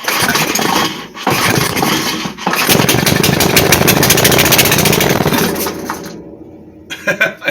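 A 5hp Briggs and Stratton small engine sputters, catches and runs, revving loud and ragged close by with brief dropouts before roaring steadily, then cutting out near the end.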